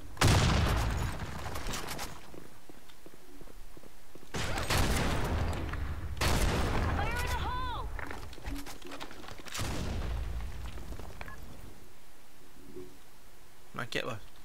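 Bursts of gunfire ring out in the competitive online shooter Blackshot, with several volleys and single shots spread across the stretch. Players talk over and between the shots.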